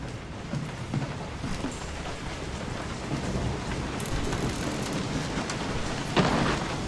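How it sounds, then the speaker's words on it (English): Rain in the video game Resident Evil 7 falls as a steady, even hiss that fills the whole stretch, with a brief louder burst near the end. "That it's dark out and raining."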